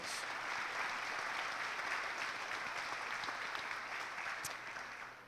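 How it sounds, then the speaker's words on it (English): Steady applause from a sizeable crowd at a county education event fills the whole stretch, dense clapping at an even level that fades slightly toward the end. "Let's give them a round of applause."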